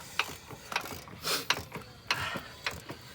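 An SR20 engine is turned by hand with a ratchet to find TDC, giving a close, rhythmic series of sharp pawl clicks and mechanical ticks in short repeated strokes.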